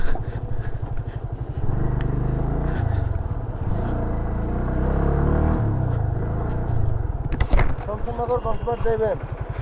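Motorcycle engine running steadily with a deep, throbbing rumble, close and loud throughout, while people talk over it.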